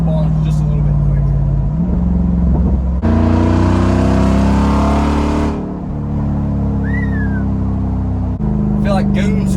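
A Jeep Wrangler Rubicon 392 with straight-piped exhaust rumbles loud and close, swelling into a hard burst of revving midway before settling back to a deep idle-like drone.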